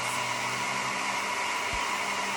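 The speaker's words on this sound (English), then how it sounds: "With your hairdryer, you want to make sure to first put it on the cool setting." A hair dryer on its cool setting blows with a steady, even rush of air and a soft motor whine, close and constant throughout.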